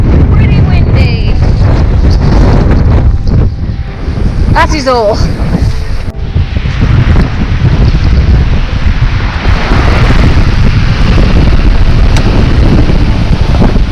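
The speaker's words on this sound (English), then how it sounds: "it's still pretty windy" Strong coastal wind on the Isle of Wight between Yarmouth and Brighstone near Freshwater roars steadily and buffets the microphone, with a faint wash of sea, while a person says a few words.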